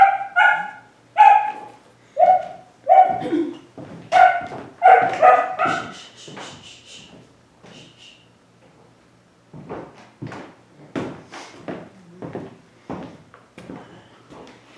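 Very young puppies, only a few months old, let out a quick run of playful, high yappy barks up close, then quieter scattered yips and small knocking sounds follow after a short lull.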